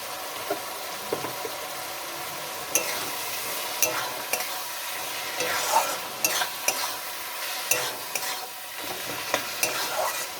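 A spoon stirs a sweet mixture with rice flour in a hot pan, giving a steady, soft sizzle with repeated scraping strokes at close range.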